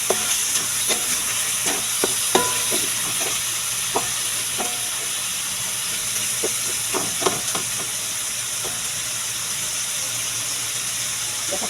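Fatty pork belly (liempo) browning in a pan, with a steady sizzling hiss and occasional clinks and scrapes of stirring, sharper pops coming and going at close range.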